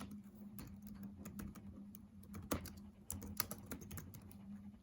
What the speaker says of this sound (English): I can't type fast when people are watching.